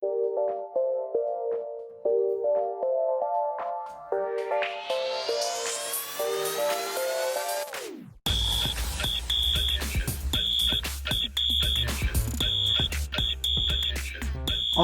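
A fire alarm system under test sounds from nearby: first a patterned series of electronic alarm tones, then a sweeping rising whoop that breaks into rapid, loud repeated horn blasts.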